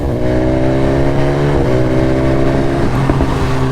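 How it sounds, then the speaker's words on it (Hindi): A 2021 Suzuki Hayabusa motorcycle accelerating hard in a drag run against a BMW, its engine a loud, sustained roar with steady harmonic tones that climb and shift with each gear, close and continuous without talk. "आओ थोड़ी सी भगाते हैं हम बाइक को।"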